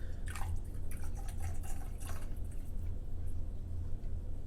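Tequila is poured into a glass in a couple of short, close liquid bursts over a steady low hum.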